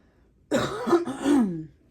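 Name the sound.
cough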